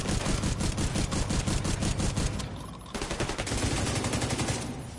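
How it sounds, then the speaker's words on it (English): Automatic gunfire from The Division 2, played on PS5, rattles in dense rapid bursts that fill the whole stretch, with a brief lull near the middle before the firing resumes loud and close. "Firing on hostile."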